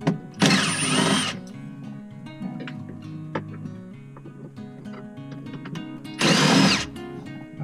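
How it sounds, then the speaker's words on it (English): Two loud, close bursts of a power drill removing bolts beneath the glove box of an H3 Hummer, separated by quieter mechanical clicks and handling noise. "So first I'll start by just removing the three bolts."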